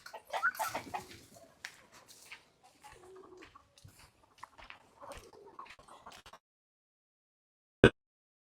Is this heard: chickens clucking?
yes